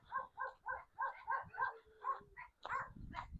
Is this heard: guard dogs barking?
yes